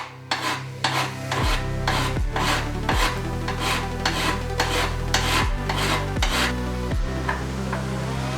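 Hand file rasping against a metal motorcycle foot peg on an XR400 build, continuous rhythmic strokes repeating about every second, loud and close with no talking.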